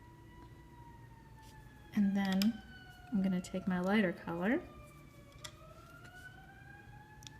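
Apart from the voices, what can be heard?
siren outside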